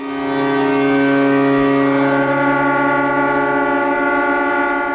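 A sustained mechanical siren wails steadily over a silent memorial crowd in North Korea, a long, even, droning tone with rich harmonics that holds level and fairly loud for several seconds with no voices.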